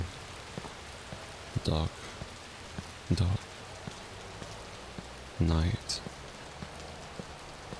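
Steady rain falling on a night street in Chicago in the video game Watch Dogs, a soft continuous patter with a few louder thuds, under a calm voice speaking a few words.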